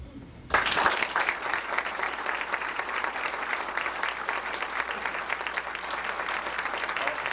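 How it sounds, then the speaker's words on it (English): Sustained applause at a 1992 Good Guy Award ceremony honoring two gentlemen, starting abruptly and holding steady as a dense, even wash of many hands clapping in a hall. "Taking a round of applause for those gentlemen."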